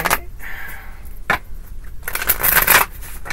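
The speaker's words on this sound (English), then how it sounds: "More shuffles." Several decks of playing cards shuffled by hand produce rapid papery riffles and soft scrapes, with a couple of short bursts and then a louder, longer riffle near the end, close and without speech.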